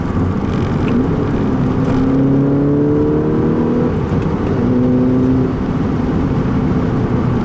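A 2011 Volkswagen MKVI GTI hatchback driving around a corner, its engine droning loud and steady from inside the car with shifting tonal whine and road noise throughout.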